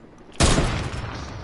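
A single loud, sudden blast of video game gunfire bursts in after a quiet moment and trails off into a decaying rumble, heard alone without talk.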